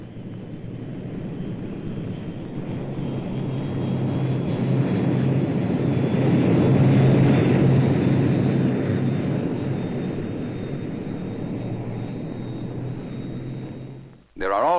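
A 1950 airplane's jet engine roars steadily on takeoff, swelling louder mid-way then fading, followed by a brief voice at the end.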